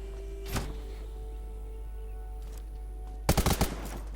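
Gunfire from a high-rated gun in the video game Undawn, with a single sharp shot early, then a quick burst of four rapid shots over a constant low hum.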